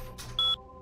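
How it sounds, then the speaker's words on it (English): A short synthetic email notification beep in a video game, a single steady electronic tone heard once over a faint background hum, preceded by a brief soft click. "Beep."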